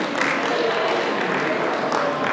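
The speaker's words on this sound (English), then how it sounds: "Give a round of applause for them" Applause from an audience at a school poetry-recitation competition, a steady dense wash of clapping that holds at an even level for a couple of seconds, fairly close.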